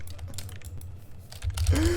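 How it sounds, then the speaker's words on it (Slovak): Clicky keys tapped in quick bursts on a computer keyboard during a gaming session, steady rapid clatter close to the mic with a louder flurry near the end. "Let's see how this keyboard sounds"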